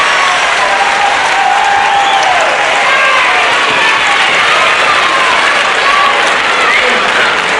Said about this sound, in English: delighted crowd, especially the young ladies there, standing up and screaming their delight as Steve Viedor gets the decision